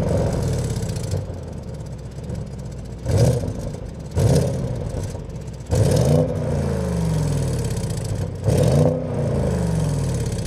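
An Audi S8 with a V8 engine and four exhaust pipes revs in several loud, short bursts over a steady idling rumble, the blips rising and falling at intervals of a few seconds.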